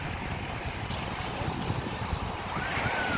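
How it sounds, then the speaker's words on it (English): Surf washes in on a beach at Sanibel Island, Florida, a low continuous roar with waves of about three feet breaking nearby, mixed with wind buffeting the microphone. "that was almost a 3-foot wave that just crashed"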